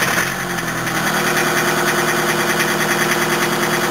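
An old Toyota engine running roughly and loudly right after starting, with a steady, rattly idle and a knocking vibration throughout, close by and heard alone.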